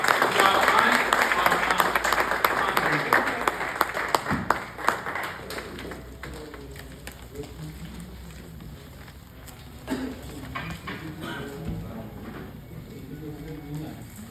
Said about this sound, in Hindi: कृपया तालियों के साथ स्वागत करें प्रदेश अध्यक्ष युवा इकाई एडवोकेट विकास दागा जी का